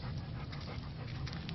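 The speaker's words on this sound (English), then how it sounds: "Bloody dogs." Dogs panting in a Kent garden make a close, continuous, breathy rasp that runs without a break for about a second and a half, with no speech over it.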